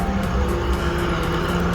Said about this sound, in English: Here comes a tow truck.